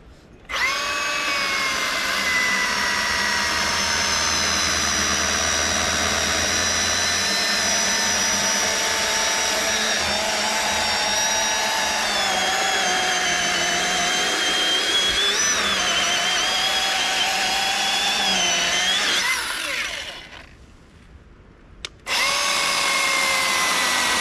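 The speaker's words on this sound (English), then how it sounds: "So we got the Milwaukee. We got some down trees up here we're gonna deal with." A Milwaukee power tool cuts through downed trees while clearing a trail: a loud, steady, high motor whine runs for about twenty seconds, drops out briefly, then kicks back in.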